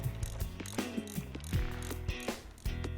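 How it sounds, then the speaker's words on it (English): A socket ratchet threads in a handlebar clamp bolt on a Harley Davidson motorcycle during a handlebar bushing replacement, with close, continuous rapid clicking of the pawl across the whole stretch. "we'll continue threading it in with the ratchet"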